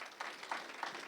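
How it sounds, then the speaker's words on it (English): An audience applauds three candidates at a council by-election meeting: a dense, continuous patter of clapping, quiet and somewhat distant, lasting about a second. "I'm going to invite you to applaud once again for our three candidates"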